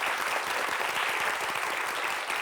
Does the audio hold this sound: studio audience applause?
yes